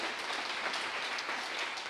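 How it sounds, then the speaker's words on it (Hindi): Audience applause answers a request for a loud round of clapping. It is a dense, steady wash of many hands, moderately distant and even across the whole span, with no voices over it. "मैं चाहूंगा एक बार उनके लिए जोरदार तालियां आप सभी लोग बजा दीजिए।"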